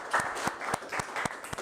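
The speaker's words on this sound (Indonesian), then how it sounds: "Tepuk tangan semuanya." A small class of children claps in a classroom on the teacher's cue, a short burst of distinct, irregular claps, fairly quiet and close.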